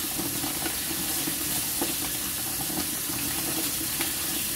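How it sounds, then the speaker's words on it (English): Chopped potatoes being rinsed under a running kitchen tap, a steady close rush of water splashing over them with no pauses and no talking. "So I'm gonna rinse them."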